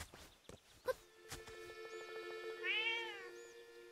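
A cat meows on a rooftop in Zelda: Echoes of Wisdom, giving one drawn-out, rising then falling call at close range. A few soft taps come before it, and a steady tonal game hum runs underneath.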